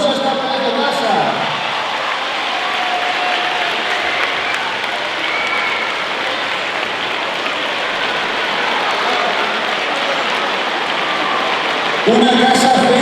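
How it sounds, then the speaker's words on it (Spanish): Audience at a school charity Christmas event applauding, a dense sustained wash of clapping from a large crowd lasting about ten seconds, with a voice speaking briefly before and after. "Un aplauso a esta pedazo de casa."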